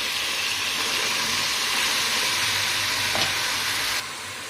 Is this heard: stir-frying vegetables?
yes